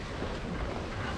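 Steady wind blowing at sea aboard a sailing boat under reefed sail, heard as a close, continuous low roar and buffeting across the whole moment, with no voices.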